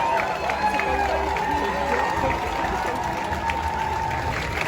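A crowd applauds and cheers at Disneyland Paris Avengers Campus during the opening of the new Marvel land, a steady wash of clapping with voices talking over it throughout.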